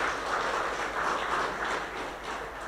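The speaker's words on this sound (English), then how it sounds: "demonstrating a better round of applause for that" An audience applauds at a joint Level 2 tactical training graduation ceremony with the Jamaica and Turks and Caicos Islands forces, a dense, sustained wash of clapping that stays at fairly even loudness throughout.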